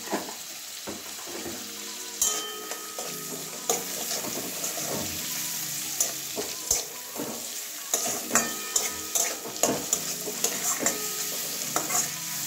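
Coriander, cumin and Kashmiri chilli powder frying in a pan for a chicken posto curry, a soft sizzle under repeated scraping and stirring strokes of a spoon against the pan.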